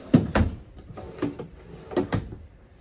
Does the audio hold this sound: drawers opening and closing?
yes